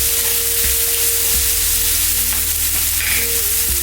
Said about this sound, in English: Now we're going to go in with the onion.